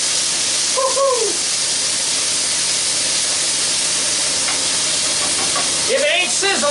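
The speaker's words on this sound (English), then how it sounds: "If it ain't sizzling, it ain't cooking, brother" Mushrooms stir-fried in a hot wok give a steady broadband sizzle and hiss throughout, with brief squeaky utensil or voice-like sounds near the start and end.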